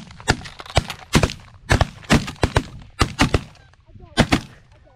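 Rapid shotgun blasts at geese during an early-season goose hunt in North Dakota: about a dozen sharp, loud reports fired in quick overlapping volleys over several seconds, with faint goose honking in between.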